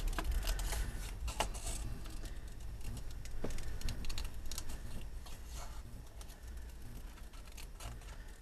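Paper being trimmed into small cutouts with scissors for scrapbook page embellishments, a steady run of close, soft snips and rustling paper handling with no talking.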